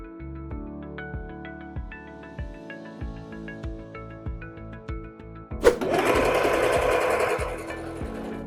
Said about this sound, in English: I'm gonna sew the back together and leave a side seam open